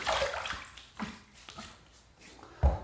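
Water splashes and sloshes at a sink as a face is wetted with hot water before a shave with a vintage Gillette Trac II razor, with several short, soft splashes and a louder one at the end.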